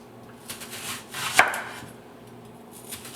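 A knife slices through an onion on a cutting board, a few soft cuts with one sharp, distinct thunk against the board in the middle, close and quiet.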